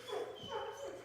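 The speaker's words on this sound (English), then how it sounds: "So that wasn't my stomach. That was actually a dog." A dog in a studio audience gives a couple of short, muffled yips or barks, fairly faint and quick, heard alone in a brief moment.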